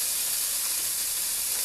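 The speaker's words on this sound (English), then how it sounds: "hear that sizzling?" Ground beef sizzles steadily in a hot skillet, a dense, constant hiss and crackle that stays loud and close throughout.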